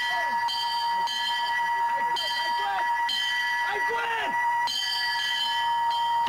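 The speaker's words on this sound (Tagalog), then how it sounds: "Tradisyon sa Navy SEALs ang pagtunog ng kampana bilang senyas ng pag-quit sa training." A bell rings with steady, sustained metallic tones during Philippine Navy SEAL training, where ringing it signals quitting. The ringing continues throughout while voices call out over it.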